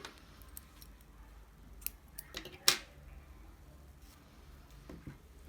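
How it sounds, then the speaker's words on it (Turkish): Scissors snip through crochet yarn in a quiet room, with a single crisp cut standing out among a few faint clicks and small handling noises, close and soft. "İpimi burada kesiyorum."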